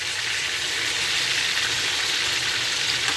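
Pork frying and sizzling in its own rendered fat in a pot while making Jamaican pot roast pork: a steady, dense hiss that crackles evenly throughout, close and loud, with no voices.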